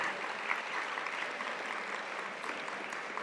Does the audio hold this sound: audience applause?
yes